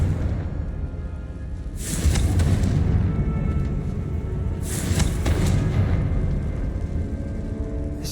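Confringo spell explosions in the video game Hogwarts Legacy: two loud booming blasts a few seconds apart, each with a sharp crack, over a constant low rumble of game sound.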